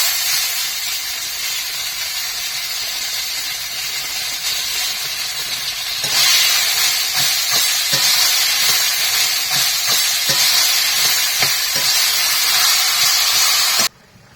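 Taro leaves tipped into hot spice masala and frying, a steady hissing sizzle that swells louder about halfway through with scattered crackles and pops, then cuts off near the end; no talking.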